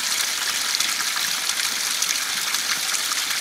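Icy cold mountain stream water flowing, a close, steady rushing hiss of moving water without pause.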